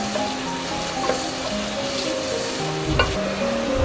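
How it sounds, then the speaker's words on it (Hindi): Onion and garlic browning with salt in hot oil for a mixed dal of mash and chana, sizzling continuously with occasional stirring scrapes, close and unaccompanied by talk. "अब ये हमारा प्याज और लहसुन ब्राउन हो चुके हैं।"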